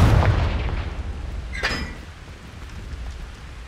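A Confringo fire spell explodes in Hogwarts Legacy: a sharp blast at the start with a low rumbling boom, a bright crackling burst midway, then a fading low roar.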